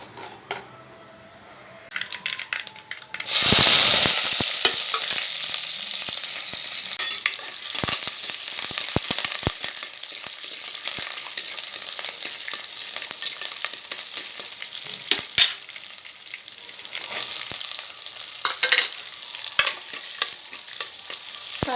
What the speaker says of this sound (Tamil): தேங்காய் விட்டு தாளிங்க கடுகு ரெண்டே ரெண்டு ஜீரகம் கொஞ்சமாக